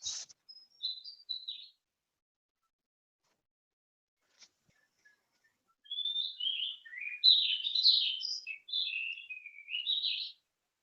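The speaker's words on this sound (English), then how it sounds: "Do the birds sound musical or do they sound stupid?" Birds sing repetitive chirping calls, a short burst at first, then a quiet gap before a longer run of bright, clear warbling phrases close by and alone, with no talking.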